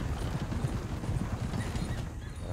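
Horse hooves clip-clop in a steady rhythm with a whinny mixed in, moderately close and continuous.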